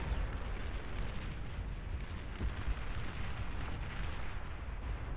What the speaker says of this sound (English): Oh, they do have long-range plasma cannon.